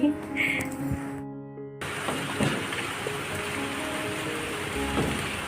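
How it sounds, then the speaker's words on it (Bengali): Heavy rain falls outside a house as a steady, broad wash of noise with scattered heavier drops. It follows a short burst of music that cuts off at the start. "ঝমঝমিয়ে বৃষ্টি এসেছে"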